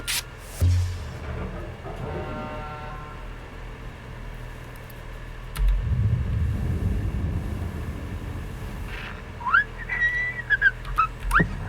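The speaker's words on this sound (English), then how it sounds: "Who's whistling? No whistling!" A person whistles a short rising and falling tune near the end, following quieter mechanical rumble and clanks in a spaceship salvage game setting, the whistle fairly clear and unaccompanied by talk.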